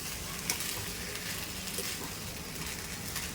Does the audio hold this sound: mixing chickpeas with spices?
yes